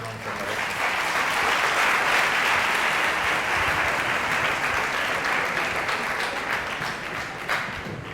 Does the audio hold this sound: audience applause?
yes